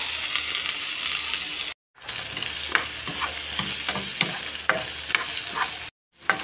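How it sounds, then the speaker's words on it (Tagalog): Potatoes and carrots frying to golden brown for a chicken curry, with a steady loud sizzle and stirring scrapes of the spoon in the pan, broken by two brief silences. "Golden brown muna natin ang ating patatas. Isasabay ko na rin ang ating carrots."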